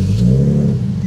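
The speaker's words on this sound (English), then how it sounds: "now I could probably start the car" An Infiniti G37 with 175,000 miles, prone to starting trouble, cranks and catches with a loud, close, deep engine rumble that rises briefly into a rev.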